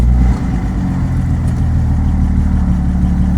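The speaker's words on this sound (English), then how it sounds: "it's idling really smooth now for the most part." Steady, smooth idle from a Datsun 240Z engine: a close, continuous low rumble with a slightly stronger push at the opening moment, no voices.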